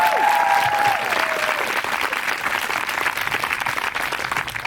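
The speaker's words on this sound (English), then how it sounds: "Can we give us a big round of applause for Cindy, please?" Loud, sustained applause from an audience at an outdoor vigil in San Carlos, a dense wash of clapping that holds steady throughout, with a brief whistle-like tone near the start.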